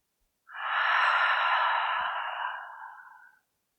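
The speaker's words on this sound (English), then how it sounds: "Let's close the class with 2 cleansing breaths." One long, deep cleansing breath exhaled through the mouth at the end of a yoga class, a soft breathy whoosh lasting about three seconds that fades out, heard close against silence.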